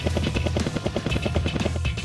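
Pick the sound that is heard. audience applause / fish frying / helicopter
helicopter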